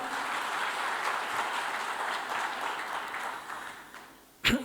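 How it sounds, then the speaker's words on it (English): Steady audience applause fills a corporate 5G launch event hall, a continuous wash of clapping at moderate level that thins out near the end before a brief sharp bump. "Please give a big round of applause."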